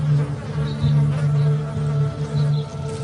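Dense, continuous insect buzzing from many bees, loud and close, with a steady droning hum and no voices.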